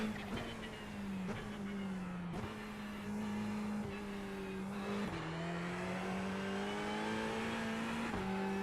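A Ferrari 488 Evo race car sliding around the Hungaroring circuit in iRacing, its steady engine drone holding a constant pitch with brief dips at each gear change, continuous and moderately loud.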